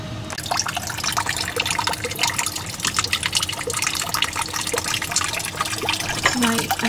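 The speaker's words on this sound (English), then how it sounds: "my siphon that I built is beginning to drain." Water gurgles and trickles steadily as a homemade siphon drains a 50-gallon aquaponics tank holding rainbow trout, a continuous close-up splashing flow throughout.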